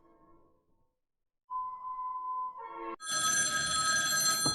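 Home telephone ringing, a tonal electronic ring that rises in pitch in short steps, then bursts into a loud, bright bell-like trill, close and clear.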